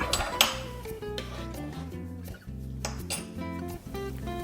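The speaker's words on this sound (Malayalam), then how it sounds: "ഈ 1 ടേബിൾ സ്പൂൺ കോഫി പൗഡർ 1 കപ്പിലേക്ക് ഇട്ടതിന് ശേഷം നമ്മുടെ ബോയിലിംഗ് വാട്ടർ അതിലൊഴിച്ച് മിക്സ് ചെയ്യാം." A spoon stirs boiling water into coffee powder in a cup, giving light clinks and scraping against the cup under steady background music.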